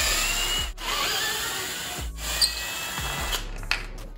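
Power driver fitted with a T45 security bit backing bolts out of a Bird 3 electric scooter, a close, loud whirring that runs in several bursts with brief pauses and small clicks between them.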